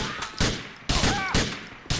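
Gunshots in the video game GTA IV, three loud, sharp reports spaced about half a second apart, each with a short ringing tail. They are close and dominate the clip, with faint game background sound.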